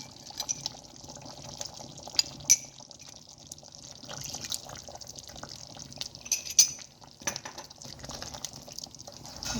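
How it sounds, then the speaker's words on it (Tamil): Tamarind water is poured into a simmering salted fish (karuvadu) curry, giving a faint, steady trickle and light splashing with a few brief clinks, quiet and close. "அதை கொஞ்சமாக தண்ணி ஊற்றி இப்படி கரைச்சிட்டு அதையும் ஊற்றிக்கலாம்"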